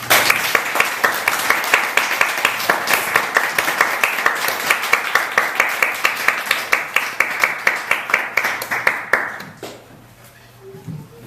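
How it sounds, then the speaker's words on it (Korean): A church congregation claps together in a steady rhythmic beat to welcome a missionary, loud and sustained for about nine seconds before stopping, leaving a quiet room. "우리 박수로 환영해 주시면 고맙겠습니다"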